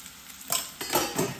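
Onion fries in a pot for chicken soup, a short close sizzle rising in two or three stirred surges over a low background hiss.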